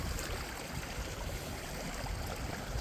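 Fast-moving stream water rushes over rocks outdoors on a hike, a continuous, fairly quiet broadband wash with no voices.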